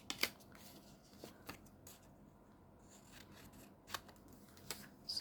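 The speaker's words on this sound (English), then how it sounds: "I want to cut this down" Scissors cutting paper for a collage on a masterboard: a handful of quiet, crisp snips and slicing rasps, spaced unevenly and close by, in an otherwise hushed room with no talking.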